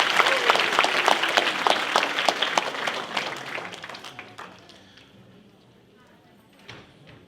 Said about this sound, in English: So please give them a round of applause and to yourself also.